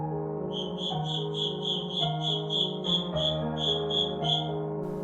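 A cricket chirps in a steady run of short, evenly spaced pulses, repeating about twice a second throughout, layered over sustained background music with no talking.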